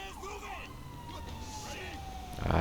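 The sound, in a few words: fire truck and ambulance sirens in LSPDFR police mod video game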